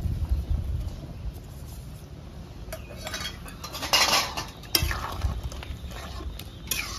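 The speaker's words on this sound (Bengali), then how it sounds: "এখানে গোলমরিচ হালকা কুটে দিয়ে দিচ্ছি।" Black peppercorns lightly crushed for a malai handi chicken in a kitchen, heard as metallic scraping and knocking of a utensil against cookware, steady and close with louder bursts in the middle and toward the end.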